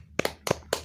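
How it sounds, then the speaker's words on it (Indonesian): Classroom spirit clapping rings out in a quick rhythmic pattern, four crisp claps in short bursts, close and clear. "Ayo kita tepuk semangat bersama-sama."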